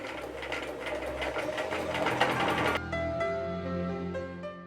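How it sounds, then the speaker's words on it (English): A sewing machine fitted with a walking foot runs a stay stitch along the edge of plaid fabric, a close, steady mechanical whir that stops partway, leaving a fading hum. "We can use the walking foot to do the stay stitch with"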